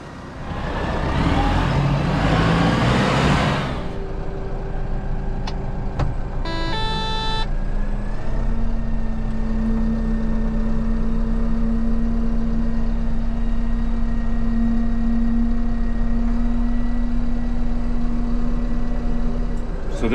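Deutz Fahr 5125 tractor engine running outdoors, a steady loud idle holding an even drone throughout, with a brief burst of broadband noise and a short mechanical rattle near the start before settling into a constant hum.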